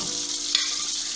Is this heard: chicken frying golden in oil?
yes